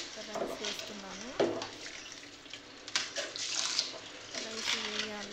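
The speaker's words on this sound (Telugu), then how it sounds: "ఇది కూడా వాటర్ బాయిల్ అయిందండి. ఇంకా మంచిగా రైస్ వేస్తున్నాను." Rice is poured into a pot of boiling water on the stove, with bubbling, sloshing and stirring sounds, while someone talks over it.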